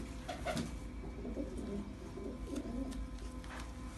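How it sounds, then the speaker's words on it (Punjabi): Pigeons cooing at a pigeon-keeping gathering, soft repeated coos rising over a steady low background hum, close by and moderately loud, with faint distant voices underneath. "ਕਬੂਤਰ ਆਈ ਜਾਂਦੇ ਨੇ ਯਾਰ"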